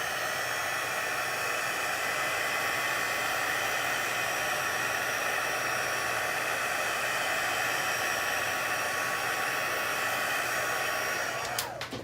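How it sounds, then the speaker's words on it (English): Craft heat tool blowing hot air onto a painted sheet, a steady loud whooshing hiss that runs unbroken and close for the whole stretch, then cuts off at the very end. "Just hit it with the heat tool for a moment."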